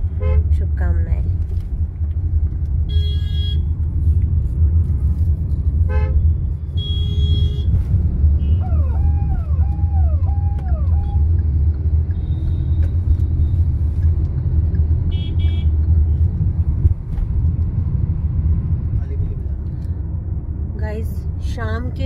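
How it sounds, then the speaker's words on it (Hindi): Busy Indian road traffic on the way to a village wedding on Tulsi Vivah day, a steady loud engine rumble with repeated car horn toots and beeps scattered throughout, near and constant. "रास्ते में इतना ज़्यादा ट्रैफिक था"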